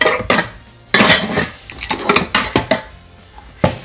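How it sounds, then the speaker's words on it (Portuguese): Metal cookware clanks and rattles as a large cooking pot is picked up, several sharp bangs and scrapes in irregular bursts, close and fairly loud. "Deixa eu pegar aqui uma panela."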